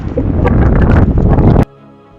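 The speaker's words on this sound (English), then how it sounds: "tonight is a very windy one." Heavy gusting wind at night buffeting the microphone with low rumbling roar, cutting off abruptly to near silence after about a second and a half.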